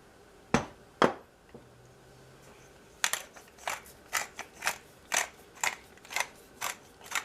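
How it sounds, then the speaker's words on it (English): Pepper being ground into beef pot pie filling makes a sharp, quiet grinder click, then a steady run of about a dozen rhythmic crunching twists close by. "The only seasoning I'm going to add to this is some pepper."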